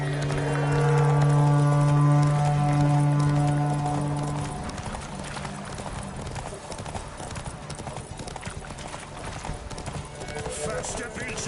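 Hoofbeats of a horse galloping in a race in the video game Witcher 3, a steady rapid clip-clop under a loud sustained tonal drone at the start that fades out, with game voices shouting over the running.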